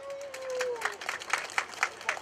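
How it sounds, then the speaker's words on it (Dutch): Scattered applause from an outdoor crowd at the opening ceremony of Energieweg street, sparse claps building over a couple of seconds, fairly faint and distant, with a brief tonal sound at the start. "dus applaus voor uzelf"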